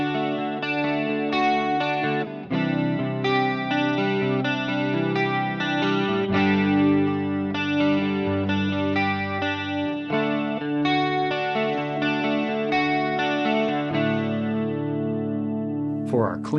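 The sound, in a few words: clean electric guitar with analog stereo chorus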